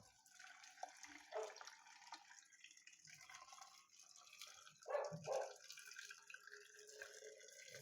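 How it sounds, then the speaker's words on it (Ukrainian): Boiling water is poured into glass jars packed with tomatoes for home canning: a few short splashing gurgles of liquid hitting glass stand out over a quiet kitchen background, with no talking. "Закипіла наша вода, заливаю кожну банку кип'ятком."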